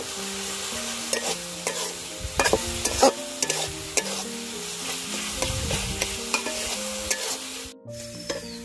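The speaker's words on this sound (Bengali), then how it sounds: "মশলাটা ভালোভাবে কষিয়ে নিছি" Masala for rui fish curry sizzles in a pan while a spoon stirs it, scraping and clinking in an uneven rhythm, close and steady with no talking.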